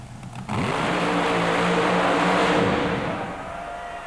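Super modified mud racing cars launching at the start of a run at the Silverdome in Pontiac, Michigan, 1991: engines roar up abruptly after a brief lull, loud and sustained with rising revs, then easing slightly.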